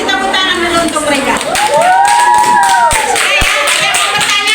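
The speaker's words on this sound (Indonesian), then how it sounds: "Kasih tepuk tangan dulu untuk mereka." A seventh-grade science class gives a round of applause for students, steady hand clapping through the whole stretch, with a teacher's voice speaking over it.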